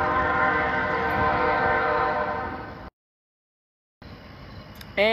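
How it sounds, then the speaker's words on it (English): A train passes in the background with a loud, sustained horn blast, steady rumble and wheel noise, cutting out abruptly before resuming with a brief squeal. "you can hear the train in the background"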